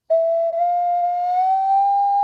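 A small ocarina plays a single clear, pure-toned note that begins sharply, with a brief tongued break near the start, then holds steady and slowly rises in pitch, close and alone.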